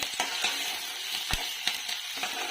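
Sliced onion and curry leaves sizzle steadily in hot oil for tomato rice, a continuous frying hiss broken by soft clicks as the pan is stirred, with no one speaking.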